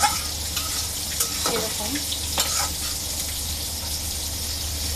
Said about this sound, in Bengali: এখন মাছটাকে নেড়ে দিব, যাতে করে সম্পূর্ণ পরিমাণে সব দিকে মাছটা কষানো হয়